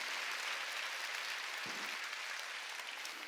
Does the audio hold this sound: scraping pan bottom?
no